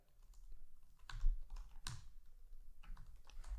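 Scattered keystrokes on a computer keyboard as a name is typed in as a signature, soft and close with irregular clusters of clicks and short gaps.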